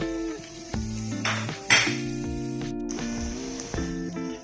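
Garlic and browned onions sauté in a pan while clinking kitchen utensils and pan scrapes sound over a low sizzle, with short bangs of metal; no one speaks.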